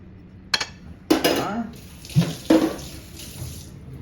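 A kitchen tap runs in short bursts while a bowl is rinsed of sour cream during cheesecake-bar preparation, with splashes and a light clink of dishes close by.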